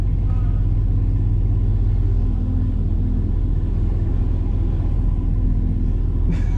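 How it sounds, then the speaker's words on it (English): Chevrolet Camaro SS 1LE with a manual gearbox under way, its engine a loud, steady low rumble that fills the whole stretch, with a brief sharper burst near the end. "this car is so goddamn loud, bro."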